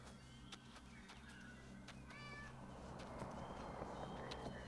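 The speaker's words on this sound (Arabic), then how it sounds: "قطة." A cat meows faintly several times in a row against a continuous low background hum, with thin high cries spaced irregularly across the stretch.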